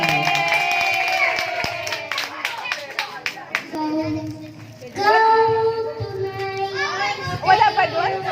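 An audience claps along in a quick, sharp burst, with children's voices and chatter around it, before a child singer's karaoke turn.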